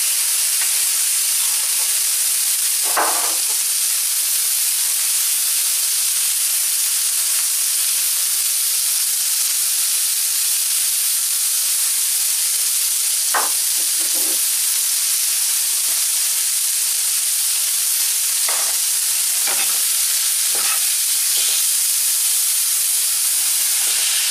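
Garlic and ginger paste sizzles in a frying pan with a steady, loud hiss throughout, broken by a few brief clinks and scrapes of utensils against the pan.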